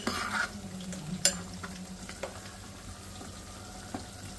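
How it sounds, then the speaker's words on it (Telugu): Chopped pieces stirred with salt and chili powder in a pressure-cooker pot, with a steady low sizzle and occasional spoon clinks and scrapes, close and without talk. "ఇలా మంచిగా ఉప్పు కారం అంతా ముక్కలు పట్టేటట్టు కలిపేసి"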